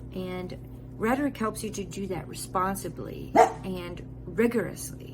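Dogs barking in the background of a virtual classroom lecture, fairly faint and intermittent, sitting under steady close speech from a single lecturer.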